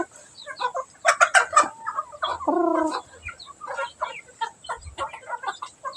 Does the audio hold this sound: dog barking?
no